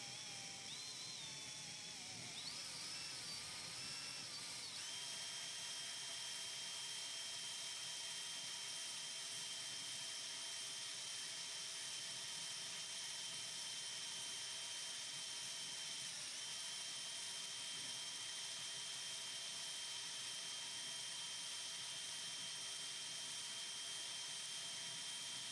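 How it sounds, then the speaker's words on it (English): A steady high-pitched motor whine from a power drill mixing glass color drones on without a break, with a brief change in pitch near the start and then an even, continuous buzz. "Let me drill mix this."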